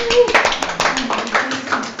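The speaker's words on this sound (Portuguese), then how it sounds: "aplausos para eles" Audience applause at a women's church service, a steady clatter of many hands clapping close by, continuous through the moment with a voice carrying faintly over it.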